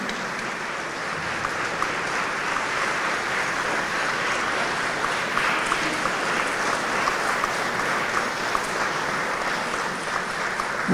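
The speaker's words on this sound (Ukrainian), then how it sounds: "ваші овації" Sustained applause from an audience honoring soldiers at a carol concert, a steady wash of clapping that holds evenly throughout with no break.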